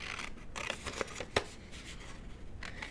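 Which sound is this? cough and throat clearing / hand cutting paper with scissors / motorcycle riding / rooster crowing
hand cutting paper with scissors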